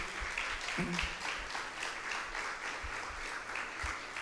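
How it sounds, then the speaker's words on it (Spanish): Audience applause at an evangelistic campaign gathering, a steady wash of clapping held at moderate level for several seconds, with faint low murmurs beneath. "Vamos a darle un fuerte aplauso"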